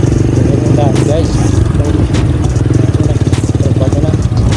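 Motorcycles riding along a rural road produce a loud, close, continuous engine drone with a rapid pulsing rhythm and some rattling clatter, and a voice briefly mingles with the engine noise.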